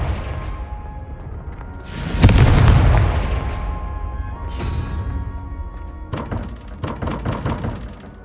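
In the Hogwarts Legacy video game, a Confringo fire spell goes off with a loud, booming blast. A long rumbling tail follows, then further thuds and crackling impacts.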